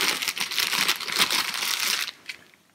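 Plastic packaging crinkles and rustles as a Rocky 2 statue base platter is unwrapped, close and busy for about two seconds before trailing off into a final faint crackle.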